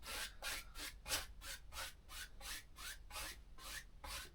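A 1.5 inch paint brush strokes across canvas in a regular back-and-forth rhythm, about ten soft scratchy swishes, close and quiet with no talking.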